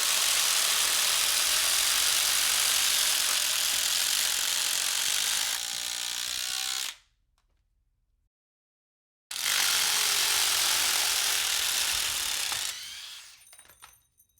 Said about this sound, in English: let's go ahead and try these 3 impact drivers out with a 6-inch general construction fastener